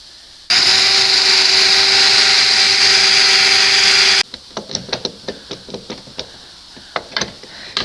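A power drill whines loudly for about four seconds while drilling a hole on a 1992 60 hp Johnson outboard motor, then stops, followed by scattered clicks and knocks of handling.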